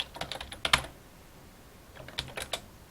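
Keys clatter on a computer keyboard in two short bursts of typing, quick close clicks separated by a brief pause, with no talk.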